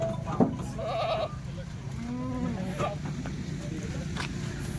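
Kathiawari goats in a pen bleat several times, the calls fairly close and separated by pauses, over a steady murmur of farmyard background noise.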